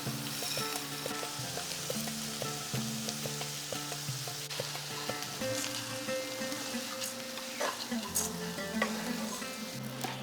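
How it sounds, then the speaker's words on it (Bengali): Marinated rice being fried and stirred with cooked spice paste in a pan, a steady close sizzle with scraping stirs throughout, no talking. "এরপরে চালের সাথে মশলাটাকে বেশ ভালো করে কষিয়ে নিচ্ছি যাতে চালটাও ভাজা ভাজা হয়ে যায়"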